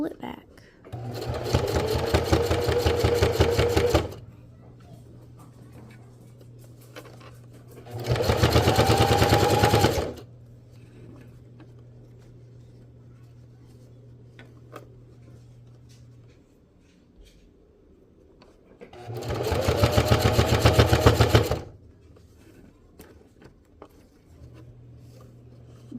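A sewing machine stitches a rolled and folded hem in three separate bursts of fast, loud needle clatter, each a few seconds long, with quiet pauses and a faint low hum between them.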